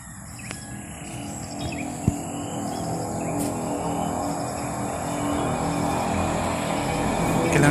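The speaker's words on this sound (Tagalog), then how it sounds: "Merong maingay na ibon." Birds calling in a forest, mixed with a dense, steady chorus of insects; short chirps rise faintly above the constant buzzing background, with no speech.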